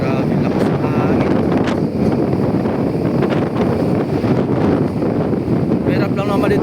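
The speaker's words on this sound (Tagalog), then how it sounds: "Talagang grabe lakas ng hangin." Strong gusting wind buffets the microphone at sea during rough weather with big waves, a loud continuous roar that stays dense throughout, with a voice speaking faintly underneath.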